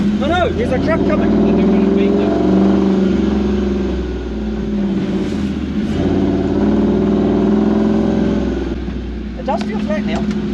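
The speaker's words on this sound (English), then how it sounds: "Oh no, there's a truck coming." A truck approaches on a bush track, its engine droning loud and close with a steady low rumble that swells and eases slightly. Voices can be heard faintly over it.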